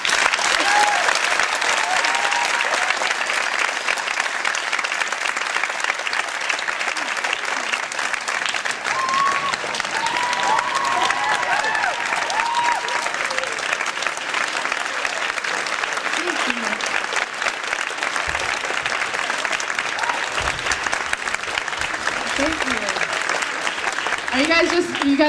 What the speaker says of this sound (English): Keep clapping, just keep clapping.